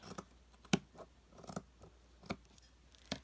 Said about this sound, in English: So I'm going to go ahead and cut it.